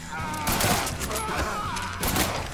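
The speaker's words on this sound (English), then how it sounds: "Mate, the range on the shotgun's incredible." Shotgun fire in Mafia 3: a few heavy blasts with rumbling tails echo close and loud, merging into a dense burst of gunfire throughout.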